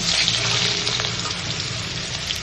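Steamed potatoes drop into hot spiced tempering oil for a cauliflower curry and sizzle loudly and evenly, a dense close hiss that holds without a break for a couple of seconds.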